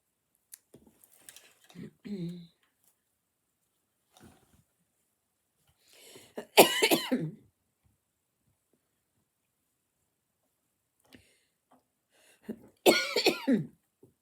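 A person coughs a few times in short, harsh bursts, with quiet pauses between and a little faint movement noise.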